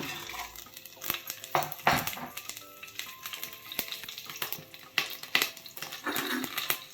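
Whole garam masala spices dropped into leftover hot oil after frying onions for a Lucknowi mutton dish, giving a busy crackling sizzle with scattered clinks and scrapes of a utensil against the pan.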